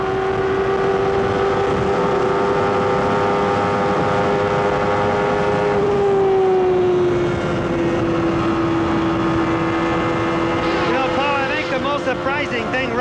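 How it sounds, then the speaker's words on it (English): IndyCar engines at the 1993 Indianapolis 500 drone loudly and steadily, then the pitch drops as the cars lift off the throttle through a corner. Crowd and track noise fill the background. "Listen in the corner just how much Nigel and everyone else have to come out of the throttle."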